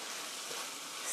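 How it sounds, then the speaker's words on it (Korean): Mushrooms stir-frying with pork in a pan, a soft continuous crackling sizzle that holds steady for a brief moment. "이렇게 버섯을 넣어서 3분 정도 볶아주세요."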